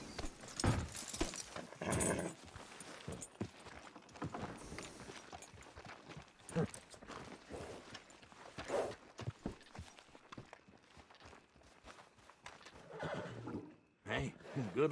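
Horse neighing in the Red Dead Redemption 2 video game, with whinnies and hoof clip-clops amid busy game sounds and a voice talking over parts.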